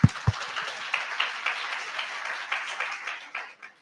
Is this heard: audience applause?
yes